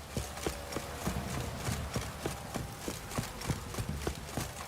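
Roach, the horse in The Witcher 3, gallops with a steady, even run of hoof clip-clops against a low ambient game background, at moderate loudness.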